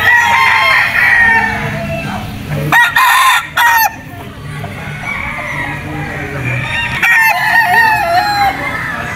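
A gamefowl rooster, a super brown red with a straight comb on a game farm at Mt. Banahaw, crows loudly and close by several times, with clucking between crows.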